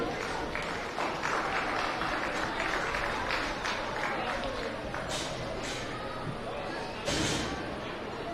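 Crowd at a county fair swine show applauds a breeding gilt class, sustained clapping from many people in a large arena, steady throughout with some talk mixed in.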